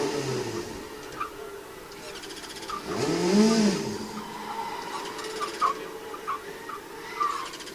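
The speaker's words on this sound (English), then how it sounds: "have a listen to those tyres. If you see the sort of frequency at which they're chirping" Formula SAE car tyres chirp on a skid pan, repeated short squeals over a running engine, with a louder sweeping passage midway while a commentator talks.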